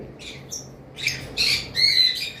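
A pair of red-eyed albino lovebirds squawks close by in a few sharp, shrill bursts, growing louder toward the end over a faint background hum.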